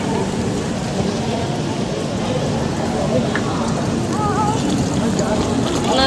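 Heavy rain in Tirupati pours down steadily, a dense continuous hiss of drops on surfaces, with faint voices in the background.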